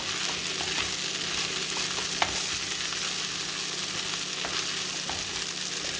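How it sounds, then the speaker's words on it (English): Vegetables and fried idli pieces are gently stirred together in a hot pan, a steady close sizzle of frying with soft scraping and a few light clicks from the spoon, no talking. "mix all the veggies with the idli. Do it gently because you don't want to break the idli pieces"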